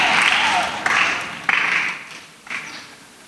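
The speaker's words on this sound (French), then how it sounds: "Acclamation très fort." Children applauding loudly at a church gathering, a dense burst of clapping that swells and fades in waves with a few sharper slaps, close and fairly loud.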